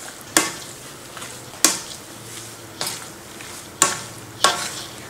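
A pot of Lao food with vegetables and water is stirred, a utensil knocking sharply against the pot about five times at a steady, unhurried pace, close and alone over a quiet background.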